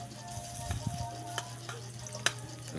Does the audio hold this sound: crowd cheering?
no